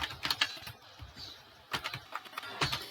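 Code being typed on a computer keyboard, with quick bursts of close key clicks separated by short pauses and no voices.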